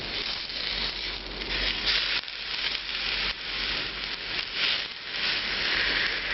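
Eggplant slices frying in a hot pan, a steady close sizzle and hiss that rises and falls slightly throughout, with no talking over it.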